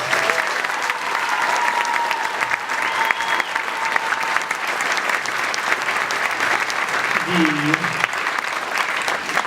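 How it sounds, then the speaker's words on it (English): A concert audience at a Carlisle High School band and choir concert applauds the graduating band seniors with steady, full clapping throughout, and faint voices and tones show through the crowd noise. "can we all please give them a round of applause?"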